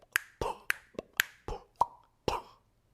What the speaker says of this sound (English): I started with the human nature of my finger snaps, lips, tongue, to build a groove around him